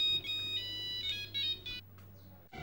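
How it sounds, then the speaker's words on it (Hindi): A mobile phone ringtone plays from inside a purse, a steady electronic melody with repeating tones for about two seconds, then stops, followed by a brief burst of different sound at the end. "फोन तुम्हारे पर्स में बज रहा है"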